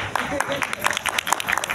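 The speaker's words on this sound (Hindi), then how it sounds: "नहीं, ताली बजाने की बात नहीं है यार" Several people in an online class clap in a scattered, uneven patter, mixed with voices talking over it throughout.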